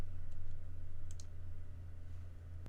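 A few light clicks of keys on a computer keyboard, typing text into a search box, faint and sparse over a steady low electrical hum.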